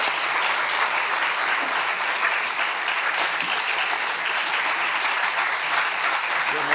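An audience applauds steadily as Justice Professor Phoebe Nyawade Okowa, an ICJ judge, is welcomed to the podium at a distinguished lecture, the dense clapping of a full hall holding an even level throughout.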